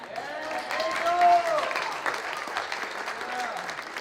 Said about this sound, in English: How about actually one more round of applause for our runner here.